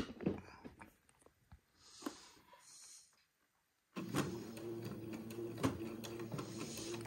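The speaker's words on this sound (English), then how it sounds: "then I'm going to zigzag the fold of the diaper cover" A sewing machine zigzag-stitching the fold of a fabric diaper cover onto thin baby entredeux lace, starting after a pause with a steady, close mechanical whirring and ticking that runs on continuously without talk.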